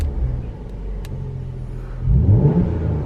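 A Mercedes C43 AMG fitted with an Armytrix aftermarket exhaust idles with a low rumble, then gives a sharp, loud rev near the end that climbs in pitch and settles back.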